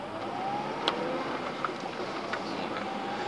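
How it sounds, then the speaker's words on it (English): A truck passes along a nearby road, its steady low rumble holding at moderate level for a few seconds with faint intermittent rattles over the top. "Don't worry, that was just a truck in a funny lane"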